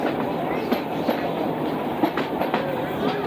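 An interurban train rolls along the former Columbus, Delaware and Marion Railroad line at the Ohio Railway Museum, with a steady rumble and rhythmic clickety-clack of wheels over joints, close and continuous.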